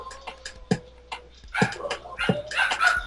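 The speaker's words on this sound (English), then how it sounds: "Can you hear my dogs?" Dogs in a home bark and yip in scattered, sharp bursts, some near and loud, others softer, over a faint steady hum.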